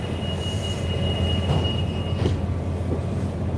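A train rolls steadily along the rails of the Port Dock railway line, a constant low rumble with a thin high whine and occasional clanks, heard from inside a carriage.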